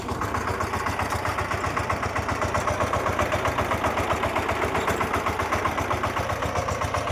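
A tractor engine idles steadily nearby, a low, rapid diesel chugging that holds an even rhythm throughout with no voices.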